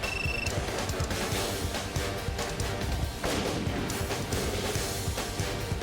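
Modern artillery cannon, such as a howitzer, firing projectiles: a continuous stretch of heavy booms and crashing impacts layered with battlefield clutter, loud and dense with no speech.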